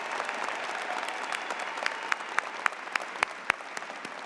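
A commencement audience at a university ceremony applauds with dense, steady clapping that is moderately distant, with a few sharper individual claps standing out near the end.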